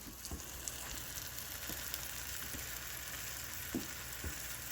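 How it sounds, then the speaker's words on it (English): Steady oil sizzle from cornmeal-coated tomatillos frying in a pan, with a few soft clicks and taps over a constant crackling hiss. "We are frying the tomatillas and they have cornmeal on it."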